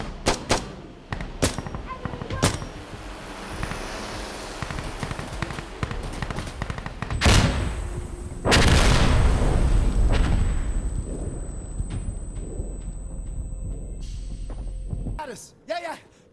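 Gunfire and bomb blasts fill a firefight in the shooter game Insurgency Sandstorm: sharp shots in a rapid series, then heavy, roaring explosions mid-scene, with a thin ringing tone and more blasts near the end. Players shout over the combat.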